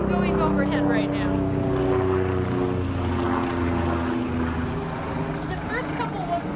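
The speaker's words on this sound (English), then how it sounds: "there is an airplane going overhead right now" A propeller airplane passing overhead outdoors, a continuous droning engine hum with slowly shifting pitch, steady and moderately loud throughout, with a person talking over it.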